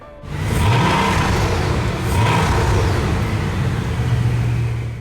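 A broken 2008 Bugatti Veyron engine cranks and catches, then settles into a loud, close, heavy rumble with a couple of swelling revs.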